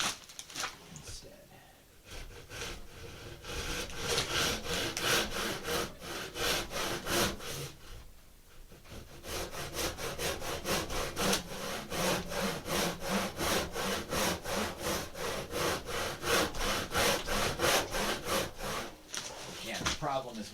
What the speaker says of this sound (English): I might do this one with this saw instead.